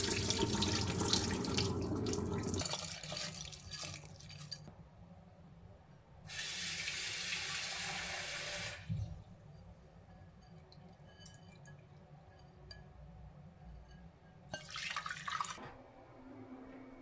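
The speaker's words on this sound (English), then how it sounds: "I rinse the grains again before cooking them." Grains rinsed under a running kitchen tap: water streams and splashes in steady bursts that start and stop, with quieter trickling and dripping in between, close up with no talking.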